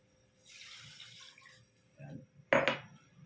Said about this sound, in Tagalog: Tulagyan natin ang tubig